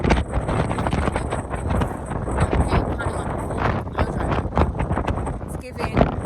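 Outdoor wind buffets a handheld microphone in continuous rumbling gusts on a walk, loud and steady throughout with a voice talking over it.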